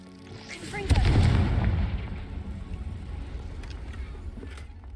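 A Confringo fire spell from Hogwarts Legacy bursts with a sudden loud, booming blast, then a rumbling tail that fades over a few seconds under low game ambience.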